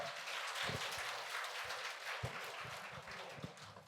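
An audience at an academic memorial conference on Buddhist thought applauds the panelists with steady, dense clapping that fills the whole stretch at a moderate distance, with no talk over it.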